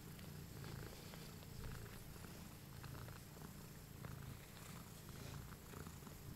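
A mother cat purrs continuously while lying with her nursing newborn kittens, a low steady rumbling purr heard close and quiet, with no voices.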